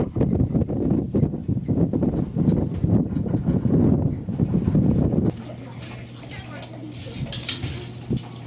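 Strong wind gusts buffet a cold mountaintop at 7,450 feet, a loud rough rushing roar that drops abruptly to a quieter windy ambience with faint background sounds.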